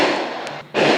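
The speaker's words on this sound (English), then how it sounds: "Dang, the fireworks, they're going off." Fourth of July fireworks go off nearby in a loud, dense crackling burst that drops away for an instant and then bursts again just as strongly.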